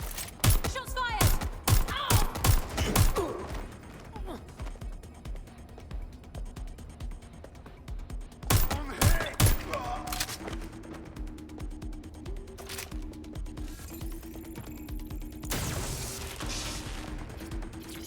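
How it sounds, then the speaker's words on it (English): Gunfire in Watch Dogs Legion comes as rapid bursts of loud, close shots, then a pause and a second volley, mixed with mechanical clatter, while a voice speaks over the later part. "Shots fired!"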